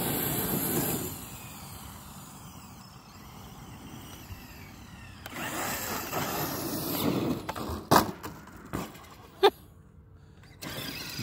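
A Traxxas X-Maxx RC truck on storage batteries driving at full throttle outdoors, a whining motor and rolling rumble that swells and fades, with a couple of sharp knocks and bursts toward the end.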